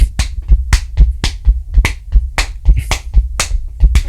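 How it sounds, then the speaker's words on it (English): A single person claps hands as simple percussion, sharp close slaps in an irregular rhythmic pattern, loud and dry with short gaps between strikes. "I can clap."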